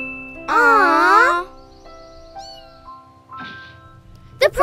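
A cartoon cat gives one drawn-out, wavering meow near the start, followed by quieter tonal chimes and small jingling effects, ending in a brief clatter.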